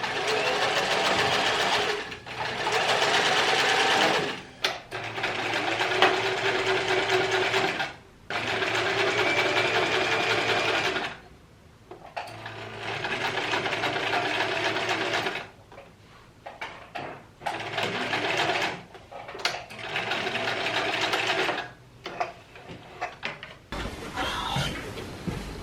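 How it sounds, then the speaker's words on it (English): A sewing machine stitches the first seam of bias tape on a jacket made from an IKEA cushion cover, running in several long close bursts separated by short pauses. "I've sewn the first seam of the bias tape on almost everything"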